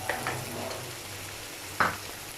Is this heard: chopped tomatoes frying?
yes